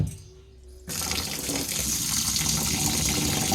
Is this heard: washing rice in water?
yes